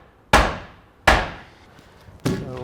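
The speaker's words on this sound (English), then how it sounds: "You can use a bigger hammer, but regular hammer will do the job in most cases." A regular hammer strikes a deck post set on concrete three times, each blow a sharp, loud thunk with a short ringing decay, spaced irregularly and heard close with no talk.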